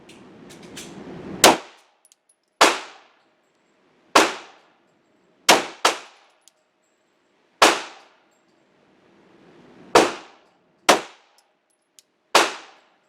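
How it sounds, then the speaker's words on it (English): Glock pistol rounds striking a steel target, sharp ringing clangs spaced irregularly, about ten hits, each with a brief metallic decay, heard from a distance with no talking. "And she put 10 more rounds into a new target."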